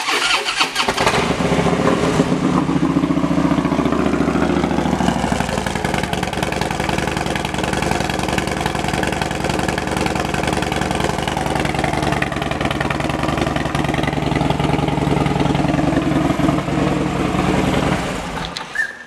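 A 2013 Harley-Davidson FXDB Street Bob motorcycle engine idles loud and close, a continuous steady rumble running almost the whole time before cutting off.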